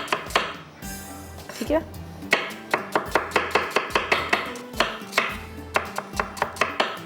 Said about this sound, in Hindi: आधी प्याज हमने कटिंग कर ली